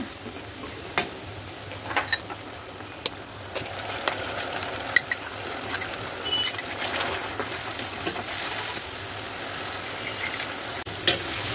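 Onion paste fries in hot oil for a chicken roast and is stirred the whole time, making a continuous close sizzle broken by regular sharp spoon clacks against the pan, with no voices.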